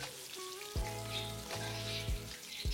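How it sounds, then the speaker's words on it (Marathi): Onions frying in hot oil in a pan, browning for a spiced mutton curry, a steady close sizzle with crackles, occasional clinks and scraping stirs, no talking. "कांदे आहेत ते चांगले लाल होईपर्यंत आपण तेलामध्ये परतून घ्यायचे."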